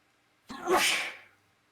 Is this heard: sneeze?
yes